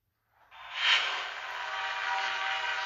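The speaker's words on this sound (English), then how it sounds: "There's a train, for some reason." In a DBX fight animation, a train rushes in from silence, a loud hissing roar that swells quickly and then holds steady, steam-like and rumbling.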